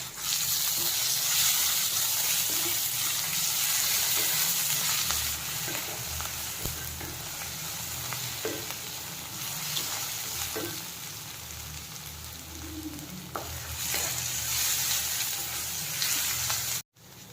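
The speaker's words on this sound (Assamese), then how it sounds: "এতিয়া আমি ইয়াত আদা নহৰু পেষ্টটো দি দিম।" Ginger garlic paste frying with browned onions for chicken curry, a loud, steady sizzle under occasional stirring scrapes and clinks, heard close up with no talking.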